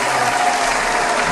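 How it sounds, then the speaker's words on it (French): Steady, dense applause from a crowd, loud and continuous throughout with no pauses or voices standing out. "On applaudit."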